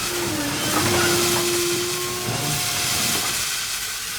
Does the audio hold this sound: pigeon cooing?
no